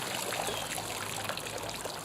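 Pool water drains steadily from a skimmer bag lifted out of a jacuzzi, a close, continuous trickling and splashing rush without pauses.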